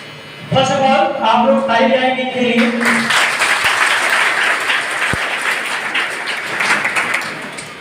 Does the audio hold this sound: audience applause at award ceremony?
yes